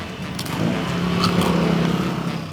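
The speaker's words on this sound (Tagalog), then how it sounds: "kahit may dumaang tricycle" A motorized tricycle passes along a city street in Makati, its engine rising to a steady, fairly close drone and fading slightly as it goes by.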